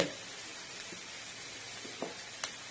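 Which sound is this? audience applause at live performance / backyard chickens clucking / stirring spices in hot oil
stirring spices in hot oil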